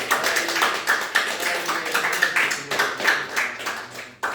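A church congregation claps together in a brisk, uneven patter of applause lasting a few seconds, with one sharper clap near the end.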